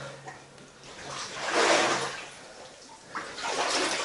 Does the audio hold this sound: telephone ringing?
no